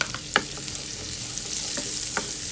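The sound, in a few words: garlic frying in melted butter and oil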